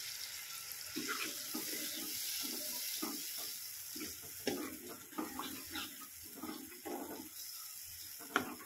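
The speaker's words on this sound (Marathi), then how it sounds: "पाणी टाकते" Water splashing and pouring into a pan of frying moong dal in uneven bursts over a soft background hiss, close by.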